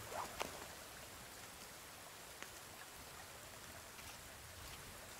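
Steady rain falling in the survival game The Forest, a dense continuous hiss with a few faint drip-like ticks, no voices.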